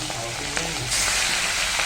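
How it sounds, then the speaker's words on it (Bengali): Fish dropped into hot oil in a home kitchen, a loud close sizzle that swells into a dense continuous frying hiss partway through. "এইবার তাহলে আমি মাছ ছেড়ে দিচ্ছি"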